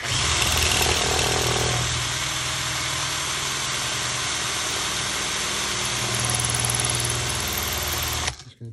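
A power drill bores steadily into an Ultion 3-star lock cylinder, with a continuous close whine whose pitch shifts as it meets resistance before cutting off at the end.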